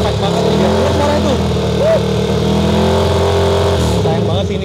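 A Ducati V4 superbike from WSBK racing, fitted with a Termignoni exhaust, idles close and loud with a deep, steady, throbbing engine note and a short blip of revs partway through. Someone talks over it.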